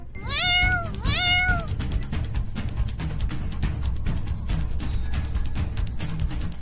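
A cartoon kitten gives two quick, clear, high meows close together at the start, followed by a busy, continuous background of music and effects.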